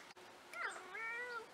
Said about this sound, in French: il miaule à la porte